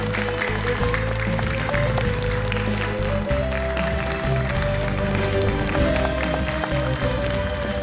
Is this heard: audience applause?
yes